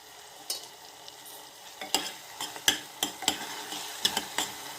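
Spices for dal fry in oil in a pan, giving a soft continuous sizzle broken by repeated sharp scrapes and clinks of a utensil stirring, with no voices.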